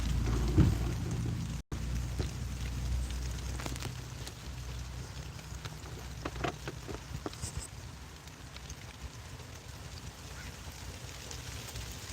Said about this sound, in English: The rain is persisting.